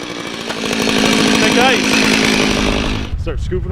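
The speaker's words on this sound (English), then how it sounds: "Start drilling right here." A motorized ice auger snarls loudly up close while drilling through ice, its buzzing engine rising as it bites in, then dropping away as a voice speaks over the idle.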